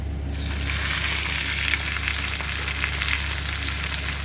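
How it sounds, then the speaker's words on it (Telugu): Four cut tomatoes fry in hot oil in a pan for a fenugreek tomato chutney, giving a continuous crackling sizzle at close range with no voices. "ఆయిల్ వేసి మనం టమాటాలు మగ్గించుకుందాము మనం టమాటాలు కట్ చేసాం కదా నాలుగు టమాటాలు దీనిలో వేసేస్తున్నాను"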